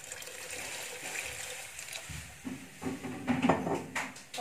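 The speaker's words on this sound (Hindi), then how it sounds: "पानी डालते हैं" Water poured into a kadai of paneer gravy, a soft trickling splash that grows louder toward the end, close and faint.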